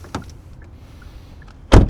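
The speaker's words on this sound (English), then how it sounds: "Let's listen to the sound of the closing door from the exterior." From outside, the door of a 2026 Kia K4 GT-Line turbo hatchback closes with one loud, solid thud near the end, after a faint click and a quiet whirring pause.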